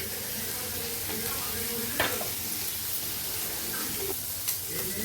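Hot oil sizzles steadily in a pan on the stove, a constant close hiss and crackle with a couple of brief clinks, no talking.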